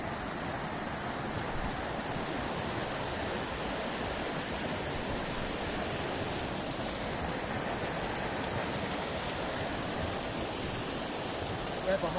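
Rushing water from a river or waterfall makes a dense, steady roar that holds at constant loudness for the whole stretch, with no clear breaks or separate events.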